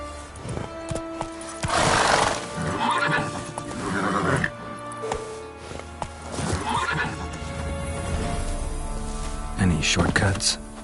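Roach, the horse in The Witcher 3 game, neighs and whinnies repeatedly in loud, breathy bursts, mixed with hoof clops and someone talking between calls.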